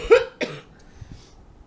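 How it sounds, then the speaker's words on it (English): Two quick, close coughs from a sick man during a live manga reaction stream, loud and dry, followed by faint low background noise. "I'm sorry, I'm coughing"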